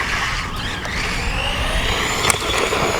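HBX 12815 Protector 1:12 scale 4x4 RC race truck driven at full throttle, its electric motor whining loudly and steadily up close, with rising pitch sweeps and a brief clatter partway through.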